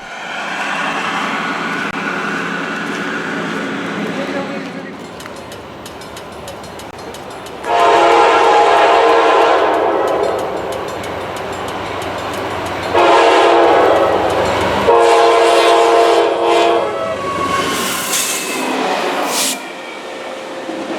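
N&W 611 steam locomotive passing a railroad crossing on Road 743 off Highway 460, sounding loud, sustained horn blasts in repeated bursts over a steady rumble of the moving train.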